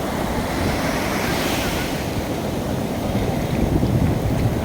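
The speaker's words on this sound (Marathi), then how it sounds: "हे बघा, लाटा पाहणं" Ocean waves wash ashore at Varca beach in South Goa, a continuous loud surf roar with wind buffeting the microphone and a slight swell near the end.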